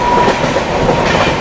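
A local train in the Mumbai region rolls toward a track bridge, producing a steady, loud, close rumble of wheels and carriages with no horn or voices.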